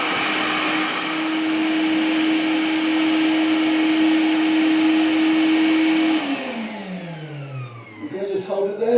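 The motor of a Gladwell Gecko robot window cleaner gives a loud, steady hum, then winds down as it is switched off by remote, while a voice talks over the fading whir.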